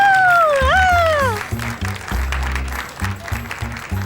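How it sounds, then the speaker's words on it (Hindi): Group clapping at a party in a Hindi-dubbed drama scene, entering after a rising musical swoop and continuing in uneven bursts alongside music beats. "चलो सब तालियां बजाओ।"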